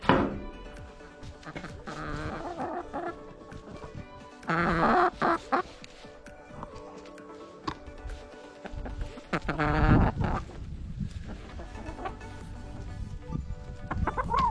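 Chickens cluck and squawk near a backyard coop after feed is sprinkled, several birds calling in irregular bursts with scratching and thumps between calls.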